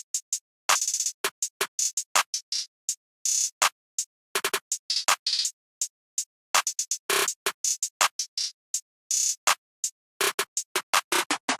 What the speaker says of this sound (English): Then for the next thing I had this Jacob snare